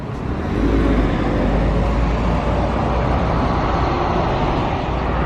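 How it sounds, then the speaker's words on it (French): A black Ferrari sports car engine idles with a deep, steady rumble nearby in Monaco, loud and continuous without pauses. "il y a la Ferrari noire qui vient de démarrer"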